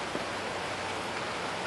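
Rain falling in steady, even hiss, soft and continuous with no other sounds standing out.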